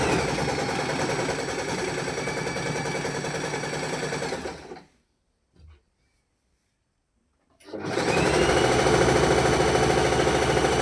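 A sewing machine stitches a pant seam in a steady, fast whir, running alone, then stopping for a few seconds of near silence before starting up again just as loudly.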